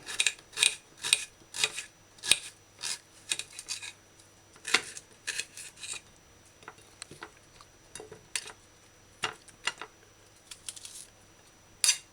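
A knife slicing or dicing onion on a cutting board gives a long series of crisp, close chops. The taps come in uneven bursts with short pauses between them and no voices.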